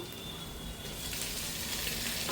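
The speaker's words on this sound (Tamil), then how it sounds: "நல்லா இஞ்சி பூண்டு நல்லா வணங்கட்டும்" Ginger and garlic frying in a pan for a country chicken curry. A dense, even sizzle holds steady and close throughout, with no voices.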